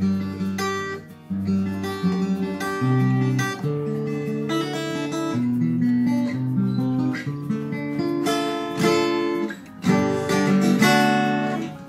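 A jumbo-bodied Cort acoustic guitar is strummed and picked up close, full ringing chords with bright notes, played alone without any talking.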